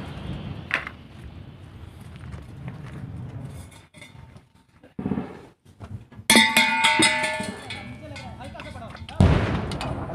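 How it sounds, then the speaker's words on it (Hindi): Gunfire from across the India–Pakistan border, heard as several sharp, loud reports with a dense burst of crackling shots near the end, over wind and rumbling background. "उधर से फायर हो रहा उनका, शुरू हो गया फायर।"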